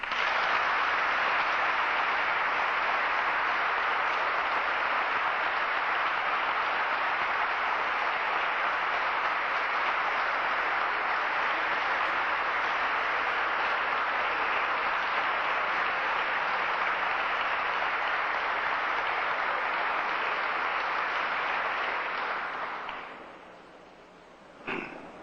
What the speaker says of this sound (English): I'd like everyone to come together with a round of applause